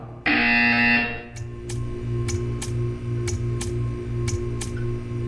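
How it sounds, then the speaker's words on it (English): A loud, harsh buzzer blares for about a second in the video game Portal 2, followed by a steady ticking that pulses at regular intervals over a low humming tone. "You will hear a buzzer. When you hear the buzzer, stare at the art."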